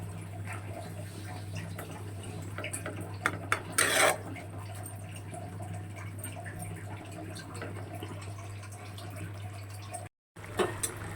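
A metal lid clanks briefly onto a pan of fish cooking on a stove amid a low steady hum, with faint kitchen clinks and handling noises before and after.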